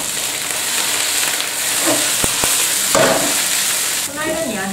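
Leaves fry with a little garlic, sizzling loudly in a hot pan, a constant hiss broken by a couple of sharp clicks and some stirring scrapes.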